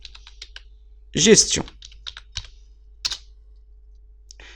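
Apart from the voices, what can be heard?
typing on a computer keyboard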